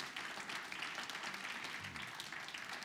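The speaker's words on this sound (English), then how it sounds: "Let's give her a round of applause then." An audience at a corporate magic show applauds a volunteer coming up to assist the magician; soft continuous clapping, faint and somewhat distant, for a few seconds.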